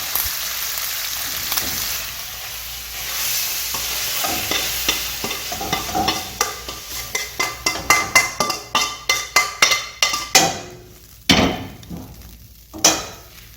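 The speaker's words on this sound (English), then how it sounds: "And we're going to dump this out" Beef lo mein is scraped and dumped out of a cooking pan, a run of clattering metal scrapes and knocks that starts as a soft sizzling stir and becomes sharp, close, irregular clanks and thuds.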